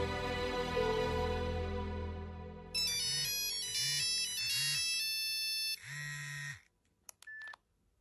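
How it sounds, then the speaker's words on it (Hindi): A phone dials out and rings while a call is placed: a rising run of tones, then a patterned electronic ringtone melody in short repeated phrases, ending with a brief click and a final beep, no speech. "मैं समीना को फोन करके बता देती हूँ अपने आने का, ठीक है ना?"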